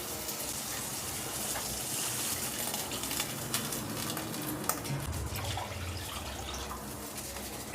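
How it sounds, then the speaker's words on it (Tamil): Water poured steadily into a pan for making Maggi masala noodles in a home kitchen, a continuous gushing splash with no pause throughout. "அதுக்கு 4 டம்ளர் அளவு தண்ணி ஊற்றிக்கலாம்."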